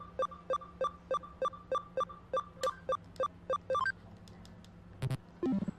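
A steady series of short electronic beeps from a minigame in the video game Digimon Story Cyber Sleuth repeats in a regular rhythm, then quickens into a flurry of higher tones over a low background hum.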